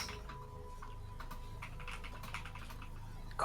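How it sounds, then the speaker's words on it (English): Fast, light clicks of computer-keyboard typing come through a voice-chat microphone in a steady flurry, quiet beneath a faint hum. "We hear you typing."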